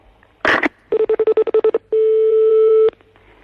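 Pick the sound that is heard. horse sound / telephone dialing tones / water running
telephone dialing tones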